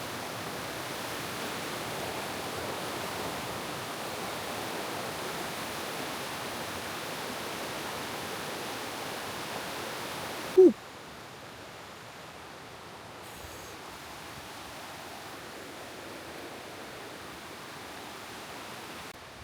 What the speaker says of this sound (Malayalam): വെള്ളച്ചാട്ടത്തിൻ്റെ സൗണ്ട് അവിടെ നിന്ന് കേൾക്കുന്നുണ്ട്